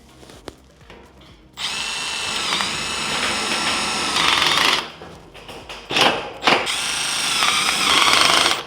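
A power drill drives screws into sheet metal HVAC ductwork, a loud close whirring run broken by short pauses and a sharper high burst as each screw bites and tightens.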